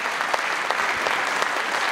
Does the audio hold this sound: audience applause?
yes